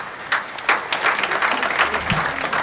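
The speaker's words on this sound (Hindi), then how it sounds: "पूरा सदन एक बार जोरदार तालियां बजाकर आमंत्रित करे भाई कमलेश दवे जी को" An audience in a hall gives loud, sustained applause to welcome a comedic poet to the stage at a humor poetry event.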